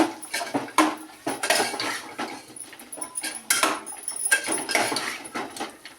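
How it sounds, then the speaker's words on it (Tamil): Spices and boiled white chickpeas being stirred in a cooking pot over low heat, with repeated metallic scrapes and clinks of a spoon against the pot in an irregular rhythm, close and moderately loud. "சும்மா லைட்டாக கலரி கொடுங்க."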